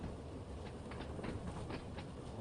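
A train in Train Sim World 2 rolling on rails while easing down toward a red signal, a steady low rumble with faint repeated clicks from the wheels over track joints, continuous and moderately quiet.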